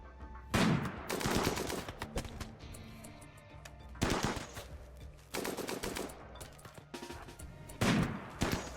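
Turrets fire in a video game in dense bursts of rapid gunfire, loud surges repeating every few seconds with quieter crackling shots between them.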